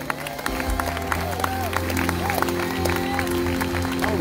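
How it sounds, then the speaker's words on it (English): A crowd at a church gathering claps hands over sustained organ or keyboard chords and voices, the clapping moderate and mixed beneath the music. "Everyone give a hand clap to the Lord."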